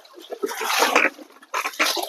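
Water is sprayed and splashed to wash black mud off a Mahindra tractor, making two close, loud bursts of gushing and spattering with a short lull between them.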